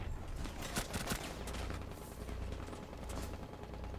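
Dense gunfire in Rainbow Six Siege plays loud and close, with rapid overlapping shots and bursts running throughout.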